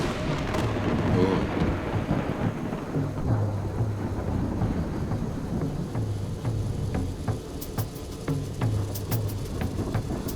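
Distant thunder rumbles across a darkening landscape as a storm approaches near the Sepik River, low rolling booms layered over steady background noise with no voices.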